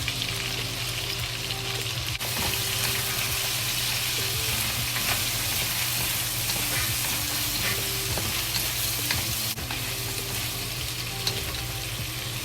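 Sichuan chili sauce frying in a wok for Big Plate Chicken, a loud, steady, close sizzle with stirring scrapes running throughout, no voices.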